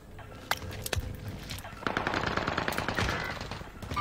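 Rapid bursts of automatic gunfire crackle in a video game shooter, with sharp single shots early and then a dense, sustained stretch of rattling fire that stays fairly quiet in the mix.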